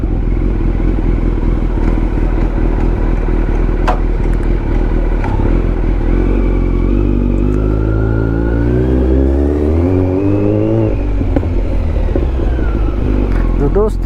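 A Kawasaki Z900 superbike engine runs loud and close, its revving pitch climbing and falling in sweeps over a steady rumble, with a voice talking over it at times.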